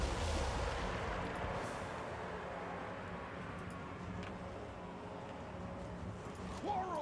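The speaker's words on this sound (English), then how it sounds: "Ooh, explosion time!" Distant booming explosions and artillery fire during a fantasy battle in Total War: Warhammer 2, a dense continuous rumble with scattered impacts under ongoing battle noise, one brief tonal sweep near the end.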